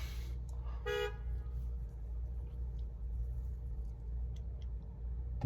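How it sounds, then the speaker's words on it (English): A car horn in a parking lot gives one short, fairly loud toot near the start, over a steady low traffic rumble, with a faint second sound at the very end. "People honking their horns in this parking lot here."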